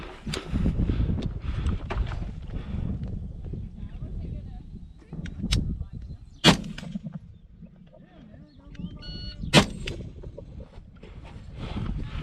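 Sharp gunshots ring out at an outdoor run-and-gun shooting competition, two loud reports several seconds apart, with a shooter firing over a vehicle hood and through its window, amid wind and background voices.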